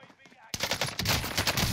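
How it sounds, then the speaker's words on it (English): Rapid bursts of gunfire erupt abruptly after a quiet moment, loud and rattling like automatic weapons in Warzone, with a KGM 40 assault rifle. "I hear gunshots."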